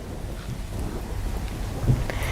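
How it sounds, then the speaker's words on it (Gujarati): Steady rain with a low rumble of thunder in Dahod, Gujarat, a continuous hiss with wind noise and a brief swell near the end, moderately faint, no voices. "દાહોદમાં જામી ગયો છે વરસાદી માહોલ"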